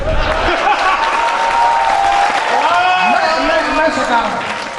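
Listeners at a Hindi poetry gathering (kavi sammelan) clap loudly and continuously, mixed with crowd voices and some laughter, while a person speaks through the applause.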